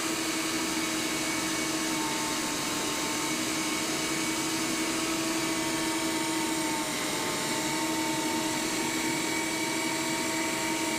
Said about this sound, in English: I am going to grind up the celery, the jalapeno, and my green tomatoes.